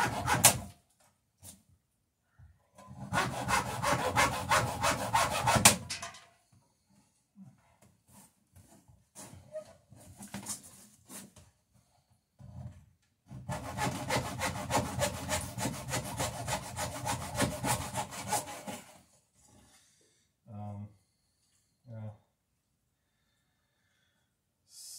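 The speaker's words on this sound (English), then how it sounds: "It's definitely not the best planing experience I've ever had." A hand plane shaves wood for a sailing dory in two long bursts of rasping strokes, each several seconds of rhythmic scraping, with a few softer scrapes and knocks between and after them.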